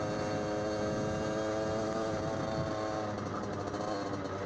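A motorcycle on a town street, its engine a steady, fairly loud drone with a continuous rumbling tone that holds throughout, no voices over it.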